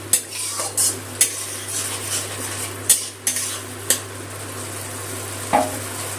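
Tomato and ginger paste frying in oil in a pan for a vegetarian pointed gourd dish, with a low steady sizzle under scattered sharp clinks and scrapes of a utensil against the pan, no talking.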